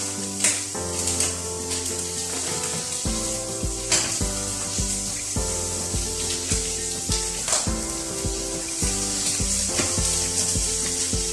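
Bacon frying in a pan for a bacon and cheese quiche, with a constant sizzle beneath repeated rhythmic shredding or scraping strokes, up close and fairly loud, with no talking.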